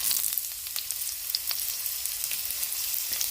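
Chopped onions sizzle in a hot pan for sopa with fideo, a steady, bright crackle with occasional louder pops and the light scrape of stirring, heard up close with no talking.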